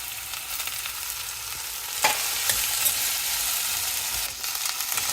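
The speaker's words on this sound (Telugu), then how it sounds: "బెండకాయలు వేసి వేయించుకోవాలండి బాగా రెడ్గా అయ్యేంత వరకు వేయించుకోవాలి" Okra (bhindi) fries in a pan with a continuous, fairly loud sizzle, a few spatula scrapes and clinks cutting through the hiss.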